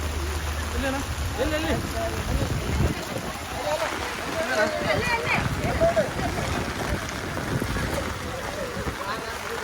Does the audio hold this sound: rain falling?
yes